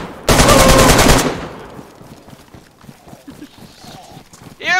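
Gunfire in the video game DayZ, a loud rapid burst of shots right at the start followed by scattered quieter impacts and another sharp report at the end.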